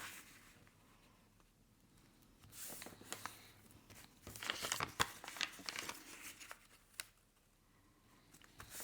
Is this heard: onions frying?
no